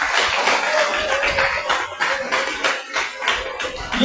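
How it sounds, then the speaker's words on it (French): A crowd at a political party gathering in Transua, Gontougo, applauds in honour of Laurent Gbagbo: dense, continuous clapping nearby with uneven bursts and pulses, no voices rising above it. "On doit l'applaudir."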